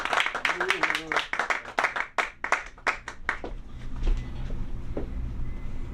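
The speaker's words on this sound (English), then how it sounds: "Please clap your hands for Sarush, everybody." A comedy-club audience gives a short burst of hand clapping for a comedian coming onstage. The clapping is loud and close, then thins out, and a voice talks over it.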